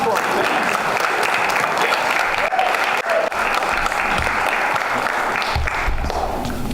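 A theatre audience at a stage performance claps for the director in a dense, steady round of applause. It is loud and continuous for the full stretch, with faint crowd murmur mixed in.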